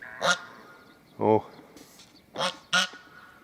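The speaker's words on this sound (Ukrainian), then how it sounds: "Гусак і гуска." Four separate honks and quacks from nearby domestic geese, a gander and a goose, each short and loud, spread out with quiet pauses between them.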